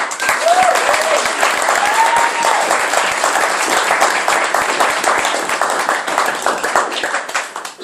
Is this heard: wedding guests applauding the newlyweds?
yes